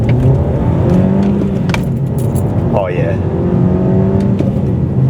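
A manual Skoda Octavia vRS accelerates and revs hard from inside the cabin, a steady loud engine drone throughout with a short rising whine near the middle, under brief talk.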